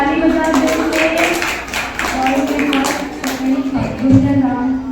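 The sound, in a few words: children's summer camp audience clapping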